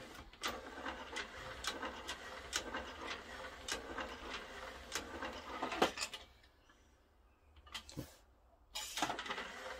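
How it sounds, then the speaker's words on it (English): A belt-driven loading motor on a Philips CD160 CD player tray, long unused, runs with a mechanical whirr and clicks for about six seconds, then falls quiet before brief bursts of motion return near the end. "there's a belt-driven loading motor on that. It probably hasn't really moved in some time, so let's just run it."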